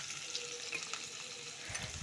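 Chopped onion and green chillies sautéing in a kadhai of oil with asafoetida and cumin, a soft continuous sizzle heard close and fairly quiet, with a brief low stir near the end.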